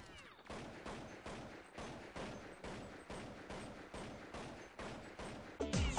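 Rapid bursts of gunfire from a first-person shooter game, a steady run of evenly spaced shots repeating for several seconds at close range, ending with a louder shift near the close.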